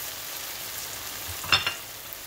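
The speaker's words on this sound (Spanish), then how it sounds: "Cuatro es lo que cabe en el sartén para freírlas" Plantain tortas with carrot and cheese frying in a pan, a faint steady sizzle with a couple of brief crackling pops near the end.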